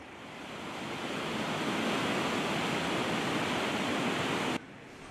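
A steady, loud rushing roar of the Louch waterfall, running full, fills the scene without pause, close and unbroken until it cuts off near the end.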